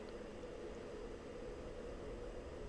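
A jet engine in the Falcon BMS flight simulator spooling up on a short runway, a steady, faint, broadband roar with a droning hum that holds level throughout, with no voices.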